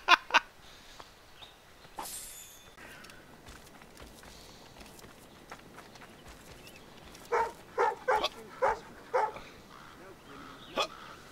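A dog in the game Assassin's Creed Rogue gives a short series of evenly spaced barks near the end, after two sharp barks at the start, over quiet outdoor ambience.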